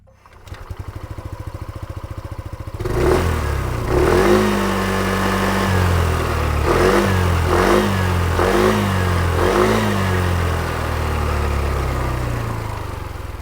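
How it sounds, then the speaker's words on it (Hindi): Hero Xoom 160 scooter revving through its exhaust, starting with a steady idle, then a run of four or five sharp throttle blips rising and falling, loud and close, no talk. "आपको इसका एग्जॉस्ट नोट सुनाता हूँ"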